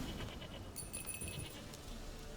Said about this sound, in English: I'm tracking a goat.